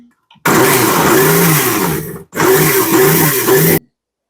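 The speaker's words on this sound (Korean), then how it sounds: "믹서기에 그 배하고 양파하고 갈아놨는 겁니다" A blender grinds pear and onion loudly in two long bursts separated by a brief pause, its motor roaring steadily as the food churns inside.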